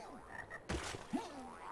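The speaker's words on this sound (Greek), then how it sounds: "Έχουμε εδώ που είναι καινούριο εχθρό, ο Βάτραχος, ο οποίος είναι και λίγο δύσκολος." A frog enemy in MediEvil Resurrection croaks in two short, deep bursts separated by a pause, set against a quiet ambient game background.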